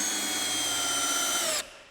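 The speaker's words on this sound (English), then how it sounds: "using this small drill driver here, the Bosch" A small Bosch drill driver spins a small fastener in with a steady, loud whir at close range, then cuts off sharply and fades into quiet. No one speaks.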